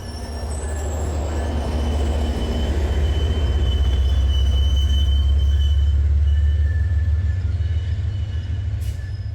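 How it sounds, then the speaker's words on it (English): A special dinner train hauled by MBTA locomotives 1033 and 1129 pulls into South Station, a loud, deep diesel rumble that swells and then eases, with faint wheel squeals overhead. "that's our special train coming into the station"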